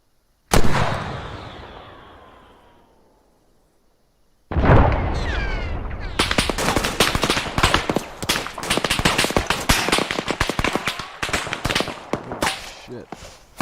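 Video game gunfire from ARMA 3: one loud blast that rings out and fades over a few seconds, then after a silence a heavy burst of rapid gunfire crackling continuously with sharp, dense shots.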